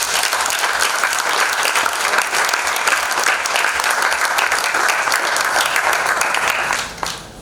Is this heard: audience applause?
yes